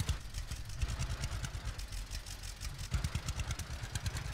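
Tractor engine running in the Farmers Dynasty farming video game, a steady low rumbling drone with rhythmic pulsing throughout, fairly loud and alone without talk.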